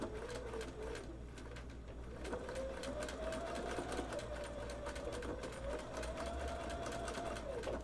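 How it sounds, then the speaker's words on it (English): A sewing machine stitches down a seam allowance on women's underwear with a quiet, steady, rapid rattle. A faint voice talks underneath. "I am going to sew this seam allowance down so that it is as flat as possible"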